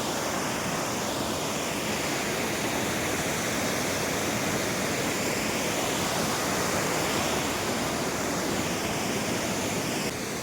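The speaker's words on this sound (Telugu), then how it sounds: "ఈ వాటర్ ఫాల్స్ జార్ఖండ్లో ఉంది" Panchghagh waterfall in Jharkhand roars as a steady, dense rush of falling water, loud and unbroken throughout with no voices.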